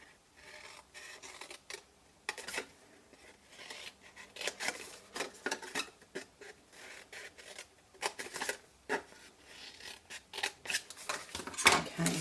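Scissors snip through paper in a series of short, crisp cuts, irregularly spaced and close by, with quiet pauses between bursts.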